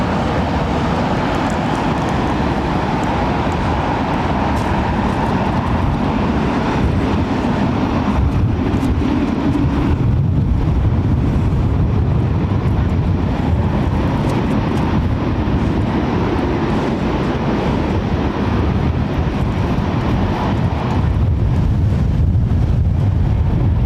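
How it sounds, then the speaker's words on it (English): Harsh wind blows at London Heathrow Airport as a loud, steady, broadband roar with low rumbling buffets that never lets up, heard close to the microphone with no speech. "That wind's a bit harsh."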